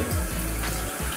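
Tap water gushing steadily into a sink to wet a brush for scrubbing shoes with toothpaste, a close, loud, continuous splashing rush that runs unbroken through the brief stretch.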